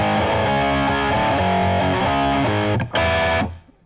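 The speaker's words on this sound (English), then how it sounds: "Then we're going to play it with distortion" A distorted electric guitar plays an intro, loud driving strummed chords with a thick saturated tone, ending in a brief pause and a final ringing chord that fades.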